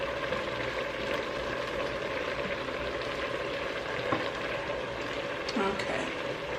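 Carrot cake jam simmering in a pot over low heat, a steady bubbling sizzle with soft stirring clicks, close and continuous with no talk.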